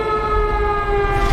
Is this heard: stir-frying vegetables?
no